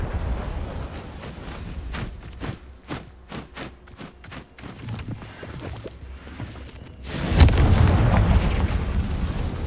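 A fiery Confringo spell in Hogwarts Legacy cracks off in a series of rhythmic sharp blasts, followed by a louder sustained rumbling explosion close up.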